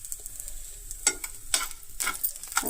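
Chutney ingredients for idli and dosa fry in a pan, giving a soft sizzle broken by several bursts of stirring and scraping that sound close and moderately loud.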